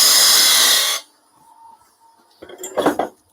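A bowl gouge cuts into wood on a lathe while shaping a bird-shaped box, giving a loud, steady broadband shearing rush that stops after about a second, followed by quiet and a couple of faint scraping clatters.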